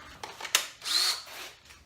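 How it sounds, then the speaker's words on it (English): A DeWalt power drill driving into wood during a saw table rebuild gives one short, close whine that spins up and stops within about half a second. A few sharp knocks and some handling clatter come before it, with no talking. "There goes my drill."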